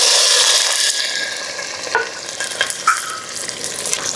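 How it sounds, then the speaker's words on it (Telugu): Chopped onions drop into a hot pan of oil with dried red chillies for village-style tomato rice, a loud sizzle at first that settles into a softer crackle, broken by a few sharp scrapes and clinks of a stirring spoon. "ఇప్పుడైతే మనం కట్ చేసుకున్న ఆనియన్స్ అన్నీ అయితే దీంట్లో వేసేసుకుంటున్నాం."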